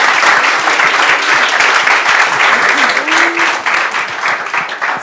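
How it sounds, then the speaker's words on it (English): Conference audience applauding, a dense sustained clatter of many hands clapping that stays loud throughout and tapers slightly toward the end. "Let's give these guys a round of applause."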